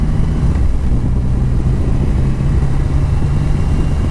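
A Triumph Rocket 3 motorcycle's engine drones steadily during a demo ride, a close, loud low rumble with constant wind noise and no break.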